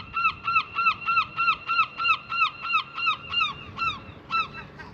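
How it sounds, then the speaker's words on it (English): Repeated loud bird calls, about a dozen harsh squawks in a steady rhythm, close by over a low background rumble. "let's just say the seagulls are very aware that I've got a sandwich"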